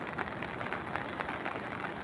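Light drizzle falls outdoors in Barangay Kabatuan, Palapag, Northern Samar, a steady, even hiss of fine rain with no voices.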